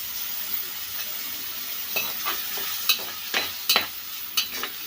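Green chillies and onions frying in an oiled pan for a raw prawn and mango curry, a steady soft sizzle broken by several sharp crackles and stirring clinks, close and alone with no talking.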